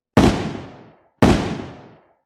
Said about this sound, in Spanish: sentí 2 disparos a mi derecha